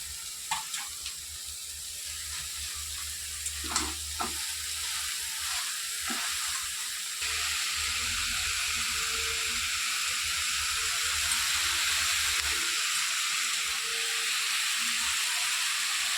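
Drained cabbage, with ginger and chopped chilli, hits a frying pan for veg momo filling: faint stirring clatter first, then a loud, steady hiss of sizzling that fills the rest.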